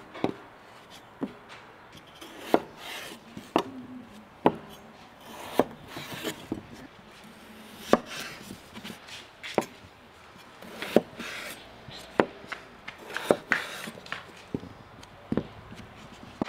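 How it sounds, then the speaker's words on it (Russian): A kitchen knife cuts through washed, unpeeled potatoes on a board, giving a steady series of crisp, close chopping knocks with short quiet gaps between them. "Так, нарезали картошку."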